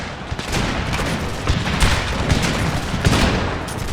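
Musket gunners in a Total War battle set in the Thirty Years' War fire ragged volleys, a dense crackle of many overlapping shots with heavier booms scattered through, loud and continuous.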